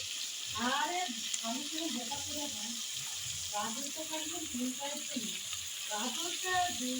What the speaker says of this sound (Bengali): ভালো করে পুঁই মেটুলির সঙ্গে সবজিগুলো ভালো করে ভেজে নেব